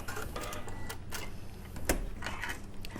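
A sewing machine stitches a cross onto a bag strap with a steady mechanical rattle and repeated ticking, loud and near, with one sharper clack near the middle and no voices.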